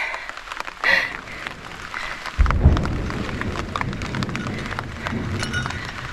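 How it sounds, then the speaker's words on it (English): A low rumble of thunder rolls in partway through and lingers under steady rain patter on a small tarp and rustling close by, at a campsite with a log shelter. "Can you hear that thunder?"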